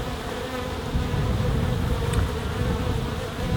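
Honey bees from a wild colony cutout buzzing during a hive inspection, a dense, steady drone of many bees close by, loud and continuous throughout with no talk.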